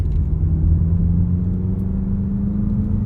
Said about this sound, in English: Let's see what acceleration feels like.